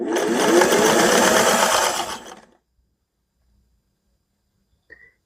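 A sewing machine runs steadily for about two seconds, stitching fabric pieces for an inset circle quilt block, then stops, leaving near silence and a faint click at the end.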